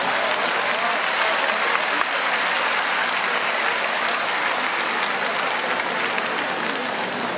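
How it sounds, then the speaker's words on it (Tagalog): A huge congregation claps during a homily at the 2014 canonization Mass of John XXIII, a dense, even wash of applause holding at steady loudness for several seconds with no voice over it. "Baka hanggang palakpak lang tayo."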